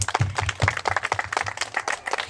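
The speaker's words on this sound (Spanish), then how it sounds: "un aplauso ahora sí que para ustedes por escucharme" Small audience of students at a football school talk claps in a brief burst, individual hand claps distinct and close, loose and uneven rather than a full roar.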